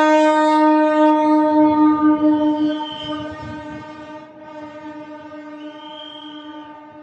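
An Amrit Bharat Express train to Udhna sounds a long, loud, sustained horn while arriving at Srikakulam railway station during its inaugural run, with the low rumble of the rolling train under the horn before the blast trails off.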